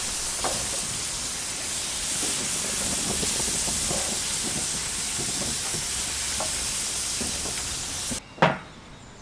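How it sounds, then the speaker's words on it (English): Onions sizzling on a hot grill, moistened with beer for hot dog toppings, give a steady broadband hiss with faint crackles throughout, close and fairly loud, ending in a brief sharp clatter. "let your ears soak up that sizzle"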